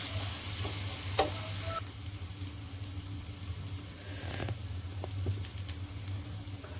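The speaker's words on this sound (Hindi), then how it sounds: "यहाँ पे प्याज हैं वो फ्राई हो चुके हैं" Onions fry over a low to medium flame, giving a steady close sizzle with a few scraping stirs and clinks against the pan.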